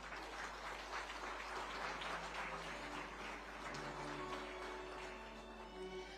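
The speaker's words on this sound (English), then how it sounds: "A huge round of applause." Applause fills an award ceremony hall for a business leader being honored, a steady faint wash of clapping with light background murmur throughout.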